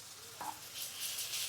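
Ginger garlic paste sautéing in a pan, a soft steady sizzle with a brief scrape of stirring partway through, close and fairly quiet with no talk.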